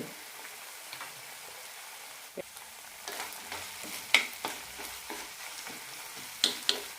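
Tomatoes and garlic for a tomato garlic chutney sizzle in a pan, a soft steady frying hiss broken by scraping stirs and occasional sharp pops, close by with no talk.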